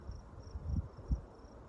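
Crickets chirp in faint, regular pulses over soft low outdoor rumble, with no one speaking.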